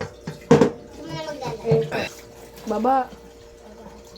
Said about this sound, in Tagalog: Tapon natin yung tubig.